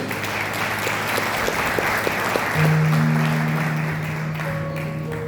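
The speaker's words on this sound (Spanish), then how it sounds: "Denle palmas a Jesús." A church congregation clapping together during a Spanish-language sermon, loud steady crowd applause with a sustained tone from an organ or keyboard entering partway through.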